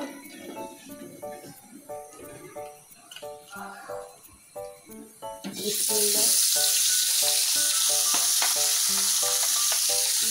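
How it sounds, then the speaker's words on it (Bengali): Small fish coated in salt and turmeric hit hot oil in a kadai: after a quieter stretch with a regular patterned background sound, a loud, sustained frying sizzle bursts in and holds steady to the end. "এখন কড়াইতে তেল গরম হইতেছে, মাছগুলো দিয়ে দিব।"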